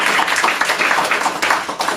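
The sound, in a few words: audience applause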